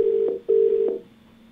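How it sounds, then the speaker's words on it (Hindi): Telephone line tones during a TV call-in program as the host dials the next caller: two steady ringback-style tone bursts, loud and clear, with a small click between them, then a fainter lower hum, no voices. "और चलिए फोन लगाते हैं अपने अगले कॉलर को, महेंद्र सिंह जी हैं"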